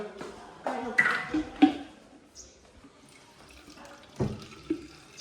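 Water from a tap splashes into a bottle in a few short, close bursts, separated by quiet pauses.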